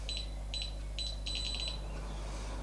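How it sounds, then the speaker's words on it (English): A digital dual-axis camber gauge on a B-G Racing aluminium camber frame gives short, high electronic beeps, a series of quick pairs then a rapid run of four or five, over a steady low hum. "hold it as still as we can, wait for the beeps"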